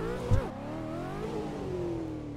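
A 2024 Ford Mustang's engine revs and drones steadily while drifting on worn tires at Assetto Corsa's Fort Curva uphill track, with a brief low thump near the start and a rising, wavering engine tone throughout.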